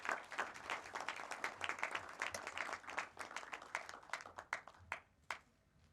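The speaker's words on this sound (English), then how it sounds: "Let's give them a big round of applause again." Crowd applause at a graduation ceremony at a sports club, individual hand claps clearly distinct within the clatter, gradually thinning out until a few last sharp claps remain before silence.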